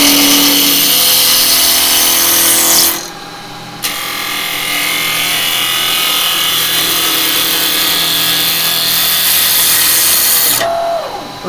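A wood lathe spins a piece while the tool cuts off its corners, giving a loud, continuous, rough scraping drone with a brief dip partway through. It stays close and steady, with no other sound over it.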